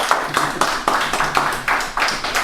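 A Thanksgiving Sunday church congregation claps in a short burst, fairly close and loud, with distinct rhythmic claps rather than a dense roar.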